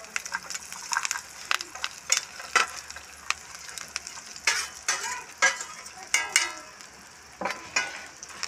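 Fried cauliflower 65 pieces being stirred with curry leaves in a pan, a series of scraping, clattering stir strokes with faint sizzling between them, fairly close and without talk.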